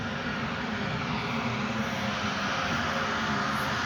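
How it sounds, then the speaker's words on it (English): Clothes dryers run steadily in the background, a constant broadband whir and rumble that stays at the same level throughout with no pauses. "Sorry for the noise the dryers are on"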